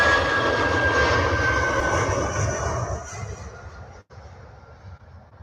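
A British Airways airliner passes at Manchester Airport, a loud engine roar and whine that slowly fades as it moves away over a few seconds.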